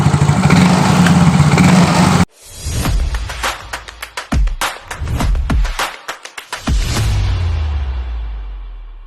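A Yamaha Soul GT scooter engine with a hard-starting, stuttering fault runs roughly: a loud steady hum cuts out, then comes back in uneven, sputtering bursts with repeated sharp clicks before it settles into a rougher idle.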